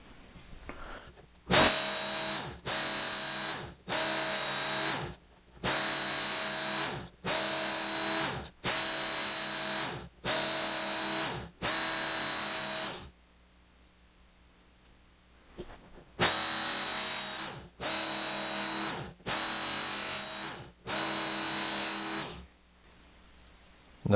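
A WorkSharp Ken Onion Edition powered sharpener grinding a knife blade gives a series of loud, bright motorized whirring passes, each a second or two long. They come in two bursts separated by a quiet pause.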